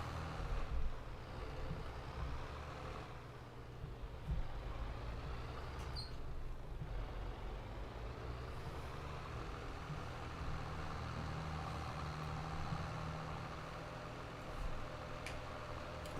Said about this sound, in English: This is a fast tractor